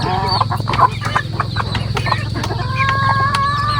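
Farmyard roosters and hens clucking steadily near and far, several birds overlapping in a busy, continuous chorus with a low rumble beneath.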